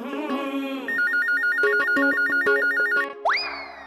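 A telephone rings in a short electronic ringtone pattern of repeating warbling tones, loud and close, in an office scene from a Hindi TV comedy, ending with a rising synthetic sweep.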